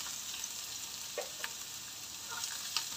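Onion and ginger sautéing in a pan for chicken bicol express, a steady close hiss of frying with a few faint clicks of a spoon, no voices.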